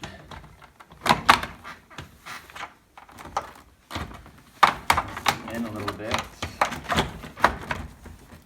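A car door panel on a 1989 Ford Probe GT snaps into place with a few sharp clunks and clicks while someone talks over the work.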